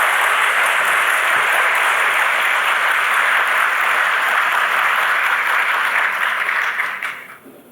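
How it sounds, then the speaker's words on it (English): Sustained applause from a large audience, loud and even, fading away at the end. "So again, a warm applause and welcome."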